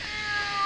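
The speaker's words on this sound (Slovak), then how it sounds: "Kočičak." A cat on a street in Laško, Slovenia, gives a single drawn-out meow, close and fairly clear over faint outdoor background.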